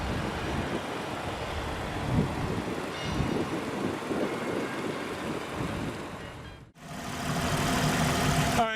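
A 2016 Toyota Avalon Limited full-size sedan idles with its 3.5-liter V6 as a steady, dense rumble and hiss. The sound drops out for a moment near the end, then carries on at the same level.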